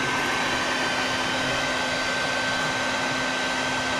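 Vacuum sucking up baldfaced hornets from a nest, a loud, steady motor whine with constant airflow roar throughout, close to the listener.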